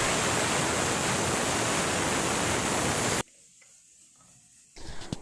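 A pressure cooker cooking jackfruit and potatoes lets out a loud, continuous rush of steam for about three seconds, then cuts off abruptly into near silence before a faint hiss returns.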